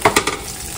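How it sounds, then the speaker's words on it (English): Garlic sizzles and fries in a pan with a steady hiss, and a couple of quick stirring scrapes come near the start. "and the garlic in first. And let that kind of sizzle up."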